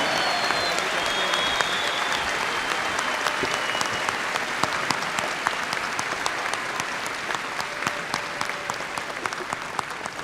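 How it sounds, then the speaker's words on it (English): Commencement crowd at West Texas A&M University applauding May 2019 master's degree graduates, sustained dense applause from a large audience filling the whole stretch at even loudness. "Let's have a round of applause for our May 2019 master's degree graduates from West Texas A&M."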